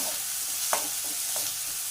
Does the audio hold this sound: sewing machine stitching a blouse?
no